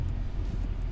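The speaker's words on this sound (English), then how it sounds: "so sorry about the road noise and the car noise and all that." Low, steady road and drivetrain rumble from inside a moving 2002 Audi S4 with a 5HP19 automatic transmission at cruising speed, continuous and fairly loud with no speech.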